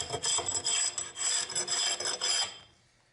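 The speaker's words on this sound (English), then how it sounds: "we're ready to take a glue scraper along the joints to get these dry glue beads off" A glue scraper rasps dried glue beads off the joints of a glued-up wood panel for a small chest, in steady close scraping strokes that stop abruptly near the end.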